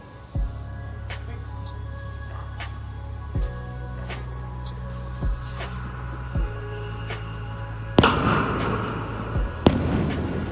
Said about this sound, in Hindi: आतिशबाजी शुरू हो गई थी क्योंकि शाम का टाइम था